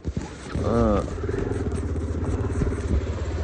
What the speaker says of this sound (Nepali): भाइ बाइक कुदाउ